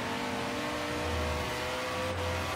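A front-wheel-drive car engine pulling hard in Forza Horizon 3, a steady droning tone with a rising hum, loud and continuous with no voices.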